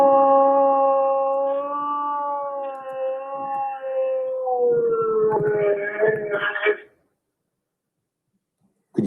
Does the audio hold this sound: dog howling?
yes